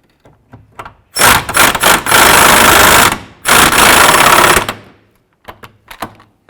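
A power tool tightens the forward control arm bolt on a 2005–10 Jeep Grand Cherokee. It makes two loud whirring bursts of about two seconds each, with quick blips before and after and faint clinks around them.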